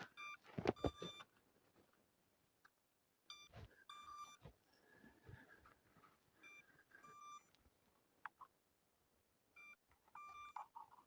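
Several bursts of high electronic beeping from a Hubsan Zino Mini SE drone in the cold, each a quick run of pulses, separated by pauses, with faint handling noise and rustling between them.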